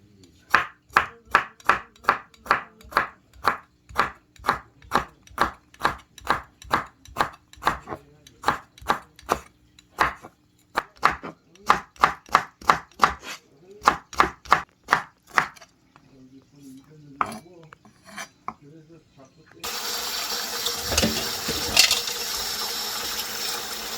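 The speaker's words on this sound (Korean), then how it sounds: "오이지 이제 담가놨던 거 썰어 볼게요." Soaked Korean pickled cucumbers are sliced with a knife on a board in a fast, even series of crisp chops, pausing briefly before a burst of running water or liquid noise takes over near the end.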